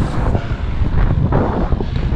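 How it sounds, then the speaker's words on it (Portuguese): Strong headwind buffeting a cyclist riding toward Santa Isabel, a steady loud rumbling roar of wind across the microphone with continuous gusty texture and no voices. "O vento tá contra."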